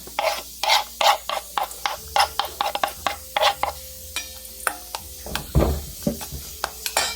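A utensil stirs and scrapes through chopped onion, ginger and chili for kinilaw in a bowl, with repeated short bursts of mixing in an uneven rhythm, close and fairly loud.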